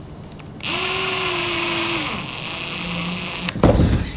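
A power drill drives screws into wood while building a trellis jig, whining up close for a few seconds at a steady pitch before stopping, followed by a brief clatter.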